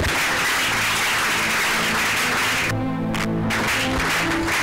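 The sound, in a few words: congregation applauding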